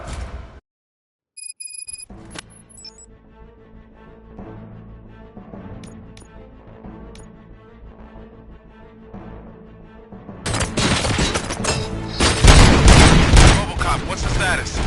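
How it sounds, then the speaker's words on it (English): Bursts of rapid gunfire erupt in a RoboCop video game after quieter stretches with electronic tones and a voice, growing loud and dense toward the end like a game firefight. "Gunshots? What's going on?"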